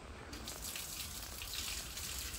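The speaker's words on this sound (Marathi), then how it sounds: "पावस येता ह्या सायडीच्यान." Steady rain pours down outside a home as darkness gathers, a continuous broadband hiss of falling water with no distinct drops standing out, fairly even and close throughout.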